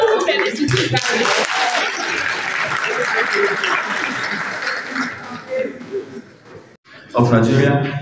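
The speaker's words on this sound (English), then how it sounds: "So please, a round of applause for all the women in this gathering." Applause with some laughter rises from an audience at a public lecture during the 2023 Nigerian Bar law week, a broad steady wash of clapping for several seconds that thins out, then swells again near the end.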